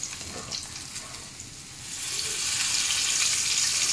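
Pork belly for lechon kawali frying in a shallow layer of oil, a close, steady crackling sizzle that grows louder and denser midway through.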